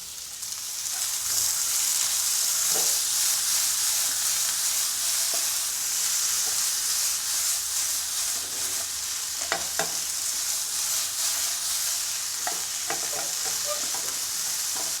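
Tomatoes hit hot oil in a pan while making palak paneer, sending up a loud continuous sizzle with occasional stirring scrapes and clicks.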